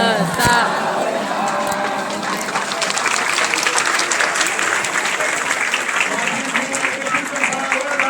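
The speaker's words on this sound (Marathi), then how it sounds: "मंगलाष्टका पूर्ण झाल्या आणि सर्वांनी एकत्र टाळ्या वाजवल्या" A crowd applauds together after the wedding mangalashtak at a Tulsi Vivah celebration, a dense, sustained wash of many hands clapping that swells with excited voices mixed in.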